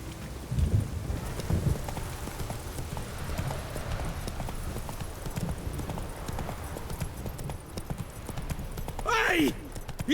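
The horse Roach clip-clops along steadily in a Witcher 3 game scene, soft rhythmic hoofbeats under a faint ambient bed, with a voice calling out and a brief whinny-like sweep near the end.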